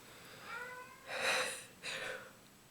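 An angry cat meows at a toy mouse, giving a few soft, drawn-out calls in close succession, quiet and alone.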